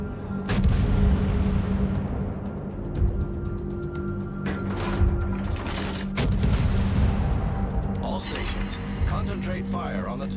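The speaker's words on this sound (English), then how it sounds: "Concentrate fire on the enemy warship." Naval gunfire from the warship Nevsky in a video game, heavy booming salvos repeating over a constant low engine rumble, with brief voice callouts mixed in.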